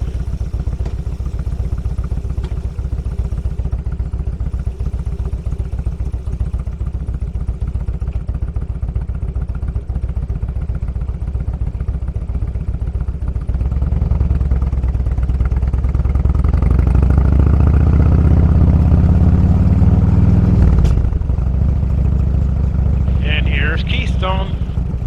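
A motorcycle riding through Keystone in the Black Hills, a steady low engine rumble with wind noise, swelling louder as it accelerates through the town before easing off.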